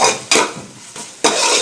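Ginger garlic paste is stirred in a pan, with three quick scraping strokes of a spoon against the metal over a soft sizzle, close and clear.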